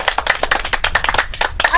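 A small group of people clapping at a village cricket match, quick uneven claps in a close rhythmic burst, mixed with overlapping voices.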